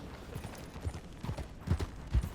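A horse's hooves clip-clop at a walking pace in the game Red Dead Redemption 2, with irregular soft thuds that grow a little stronger toward the end.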